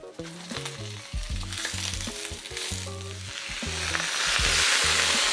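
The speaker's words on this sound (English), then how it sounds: "which is fry up my Cabbage." Garlic and cabbage stir-fry in a hot wok with a dense sizzle under rhythmic clanking of a metal spatula, building louder toward the end, with no voices.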